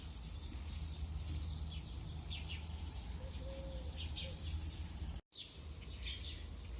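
Early-morning birds chirp and call intermittently over a steady low outdoor rumble, the short tweets scattered and fairly distant, with a brief dropout of all sound near the end.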